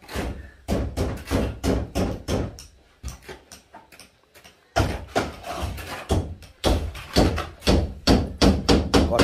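Nails hammered into wood while finishing a house floor, a quick run of sharp, close, rhythmic hammer blows with a brief lull midway before the pounding resumes just as fast.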